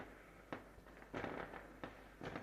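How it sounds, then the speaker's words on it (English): Fireworks going off on New Year's, heard as faint, distant pops and crackling bursts at irregular intervals over a steady low background hum. "Fireworks going off."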